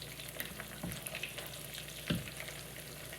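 Vienna sausages fry in a pan in a steady, moderately quiet crackle, with two brief scraping knocks of a utensil against the pan.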